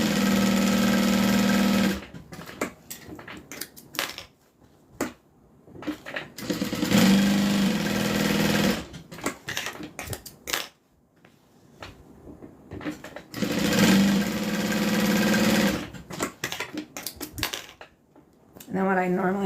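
Sewing machine stitching a leather wallet, running in several sustained bursts of steady whirring with pauses between, close and loud.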